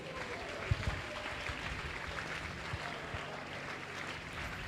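A congregation claps in a church, a steady wash of applause at moderate distance that holds evenly throughout with a few sharper claps near the start.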